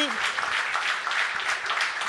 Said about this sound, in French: j'aimerais ça qu'on lui redonne une bonne main d'applaudissement à Yann Terriot